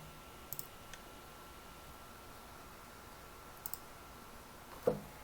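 Computer mouse clicks while drawing linear dimensions in AutoCAD: a few faint, sharp double clicks spaced apart over quiet background hiss, with one slightly louder click near the end.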